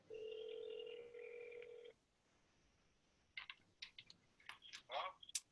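A telephone call is dialed on speakerphone at a zoning board meeting: a steady dial tone for about two seconds, a short pause, then a quick run of separate keypad tones and clicks, heard close and fairly clear.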